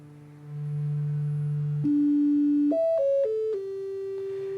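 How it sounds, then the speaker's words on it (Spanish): A pure synthesizer oscillator tone holding steady, then stepping down through a few sustained pitches, clean and electronic with no voices. "Cogemos este oscilador que suena así."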